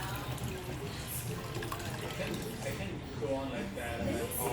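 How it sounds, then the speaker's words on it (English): Water trickles and drips from the top left corner of a Jura E8 coffee machine. The liquid patters softly and steadily close by, with a person talking over it. "Coming out of the top left corner, water drippings will come out."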